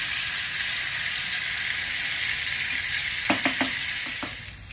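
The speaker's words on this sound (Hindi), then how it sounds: "अब हमारे कबाब अच्छे से फ्राई हो गए हैं।" Lucknowi galouti and seekh kebabs sizzle steadily in hot oil in a pan, a continuous close frying hiss, with a few light clinks of a utensil near the end.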